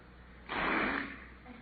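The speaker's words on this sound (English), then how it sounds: "forced breath" Forced human breath demonstrated by a man: a single close, loud, harsh exhalation rushing out for about half a second, then fading, with nothing else heard.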